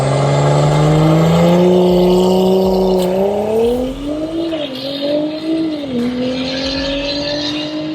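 Stage 3 Audi S5 on an E70 ethanol tune from 034 Motorsport launching down a drag strip, a loud close engine climbing steadily in pitch through successive gear shifts, with a dip and recovery in the last seconds.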